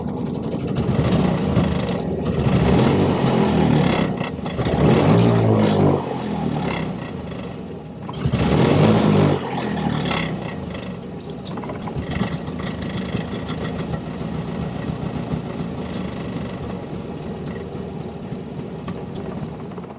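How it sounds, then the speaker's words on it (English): A rare 1950s British Meadows Frisky Family Three micro car engine cranks, catches with throttle and roars in loud surges before settling into a fast, rattling, buzzy idle, close by with no talking. "Now, we'll say when we start this up, we do have to give it a little bit on the throttle"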